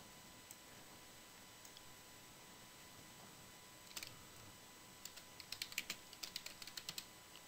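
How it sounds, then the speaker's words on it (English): Fingers typing a name on a computer keyboard: a few isolated clicks, then a quick burst of soft, close keystrokes over a faint steady hiss, with no talking. "I'm going to type my name down below,"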